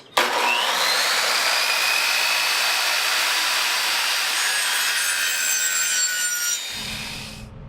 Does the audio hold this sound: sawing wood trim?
yes